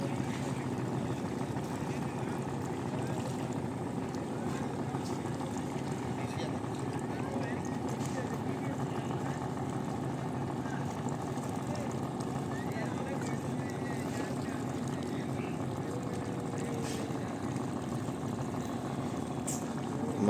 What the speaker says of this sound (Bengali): আপনারা শিপের আওয়াজগুলো শুনতে পাচ্ছেন।